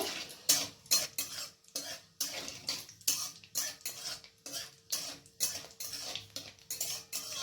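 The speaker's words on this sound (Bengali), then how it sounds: "এরপর এইগুলোকে হালকা করে ভেজে নেব।" Whole garam masala, bay leaf pieces and cumin seeds fry in a pan, with repeated clinks and scrapes of a spatula or spoon stirring against the metal in a steady rhythm, a faint sizzle underneath and no talking.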